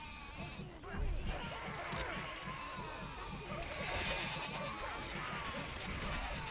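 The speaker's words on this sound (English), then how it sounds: "nobody gets mad if you fight the sheep now" Sheep in the video game Overlord (2007), a flock bleating repeatedly in a rapid overlapping chorus over a rhythmic low thumping, loud and close with game background sound beneath.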